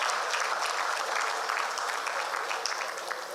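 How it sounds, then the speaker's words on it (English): A lecture audience claps continuously, a thick, even wash of many hands heard at a moderate distance with no voices over it. "keep the applause coming."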